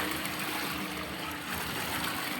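Strong flow of spring water pouring and rushing steadily, a dense continuous wash of sound close by, with no voices.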